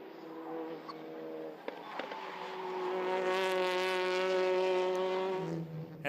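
TCR touring race cars on the last lap at Oschersleben, ESET Cup 2023: a high, buzzing engine note swells as a car approaches and passes, rising to a loud peak, then drops away with a gear change near the end.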